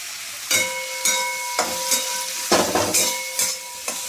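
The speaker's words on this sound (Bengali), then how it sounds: "এই আমার পেঁয়াজটা ভাজা হয়ে গেল।" Onion fries in a pan with a soft, close sizzle, broken by repeated sharp clinks and scrapes of a utensil against the metal at irregular intervals, with no voices.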